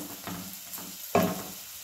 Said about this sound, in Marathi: आता ह्यात आपण गरम करून घेतलेलं पाणी ओतूया